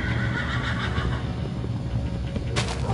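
A horse in Minecraft gives a short whinny with some rumbling movement, fairly quiet and close, without talk.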